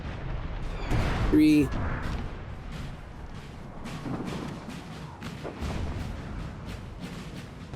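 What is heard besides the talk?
artillery fire in video game Napoleon Total War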